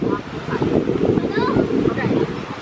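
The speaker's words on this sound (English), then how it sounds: "Now it's windy." Gusty wind buffets the microphone with a steady rumbling roar, and people talk faintly underneath.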